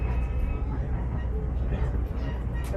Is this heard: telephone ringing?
no